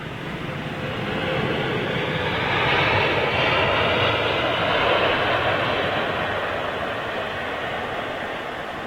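A Boeing 777 airliner at London Heathrow Airport makes a loud, steady jet engine roar that swells slightly and holds, continuous broadband rumble heard from a distance outdoors.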